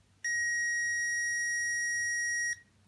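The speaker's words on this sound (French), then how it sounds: "et ça devrait biper aussi." A single steady high-pitched electronic beep from a multimeter continuity test on a MOSFET sounds for about two seconds, clean and alone, then cuts off.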